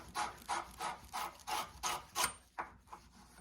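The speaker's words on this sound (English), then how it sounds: "clean up the end of the pipe till it's nice and shiny and no imperfections on it" The end of a copper pipe is scrubbed with an abrasive before soldering: seven or eight rhythmic back-and-forth rasping strokes, close and fairly quiet, then a few shorter, softer rubs, with no speech.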